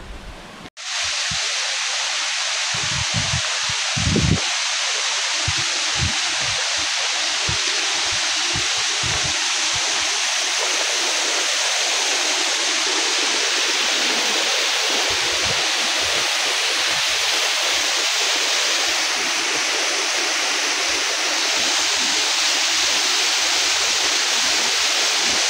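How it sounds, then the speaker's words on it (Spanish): A hidden waterfall in the Huasteca, Mexico, roars as a steady, dense wash of falling water close by, broadband and continuous throughout, with faint low rumbles underneath. "Está bien escondida esta cascada."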